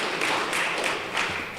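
Close, dense applause from the audience at a golf association panel discussion, a steady wash of many hands clapping with a few louder taps, no talking over it.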